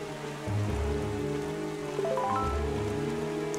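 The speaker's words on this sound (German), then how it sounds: "Es regnet immer noch." Steady rain falls in the video game The Legend of Zelda: The Wind Waker HD, a soft continuous patter with low rumbling swells, alone without voices.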